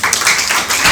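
An audience at a provincial quiz contest applauds the day's top scorer with dense, bright clapping, loud and close, filling the whole brief moment.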